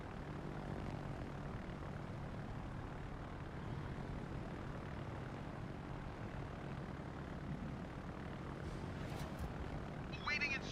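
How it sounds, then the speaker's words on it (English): A fighter plane launching from a carrier in a naval warfare video game, a steady droning engine roar held throughout at moderate level, with faint chirpy game effects near the end. "Fighter airborne."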